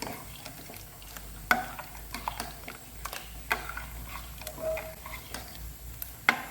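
A spoon stirs lentil and papaya curry after ground paste is added, giving a string of soft scrapes and sharp clicks against the pot at an irregular pace over quiet, faint simmering.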